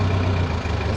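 A Cat 416B backhoe loader's diesel engine held at raised revs, a steady low rumble with a slight dip near the middle, close by and with no talking.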